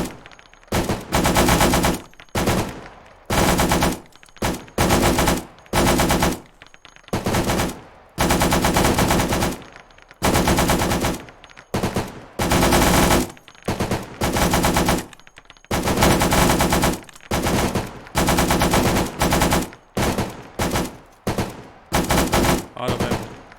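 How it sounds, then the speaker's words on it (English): Machine gun fire in the Arma 3 video game rips out in loud, repeated short bursts of a few rounds each, separated by brief gaps throughout. "Try to get a kill. Try to get a kill. 3 to 5 round bursts."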